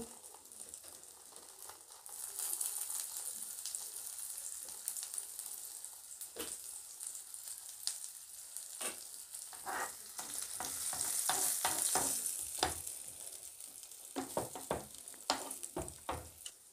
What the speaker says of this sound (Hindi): और इसी के ऊपर से हम डाल देंगे सब्जी जो हमने सब्जियां मिक्स करके रखा था ना वो